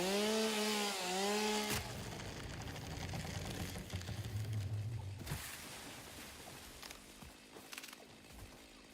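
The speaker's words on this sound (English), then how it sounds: "my chainsaw wasn't in area mode" A chainsaw cutting in the video game Satisfactory, set in area mode: a loud opening burst with rising and falling engine whine, then a sustained lower grinding buzz that continues and fades in intensity.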